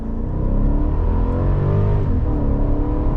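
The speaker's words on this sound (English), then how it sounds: "it definitely has some good pickup to it, and that V8 sounds fantastic." Mercedes 500E sedan from the early 1990s with its V8 engine at full throttle, a dense, loud, steady engine roar building under acceleration from inside the cabin, with no talking.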